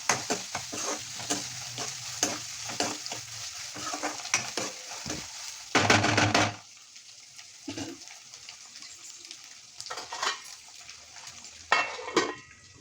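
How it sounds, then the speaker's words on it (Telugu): Ginger garlic paste fries in a pan for paneer curry, a steady sizzle broken by repeated stirring scrapes and clinks of a spoon against the pan, close and fairly quiet. "అల్లం వెల్లుల్లి పేస్ట్ బాగా వేగాల"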